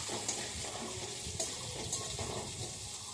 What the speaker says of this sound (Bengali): আলুটাও লাল লাল করে ভাজা হয়ে গেল